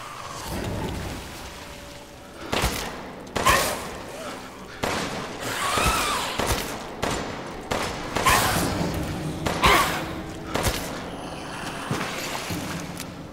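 Gunshots from the horror video game Resident Evil Village ring out as a series of sharp, loud blasts, roughly a dozen spaced irregularly over ambient game noise, with some talk underneath.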